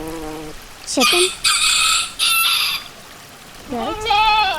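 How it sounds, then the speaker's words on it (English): A chicken calls in a short burst, followed by bright, sustained crowing-like squawks and a final rising call. Fairly loud and close with no speech. "chicken,"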